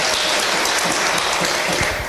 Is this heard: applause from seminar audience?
yes